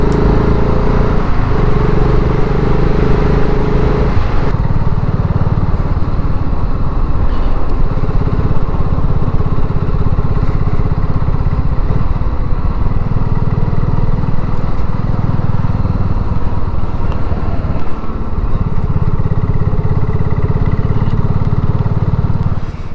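Motorcycle riding around an airfield runway in the evening, a loud continuous engine drone with steady exhaust rumble and slight pitch shifts as the bike turns, heard up close from the rider's position.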